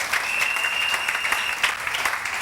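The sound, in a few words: congregation applauding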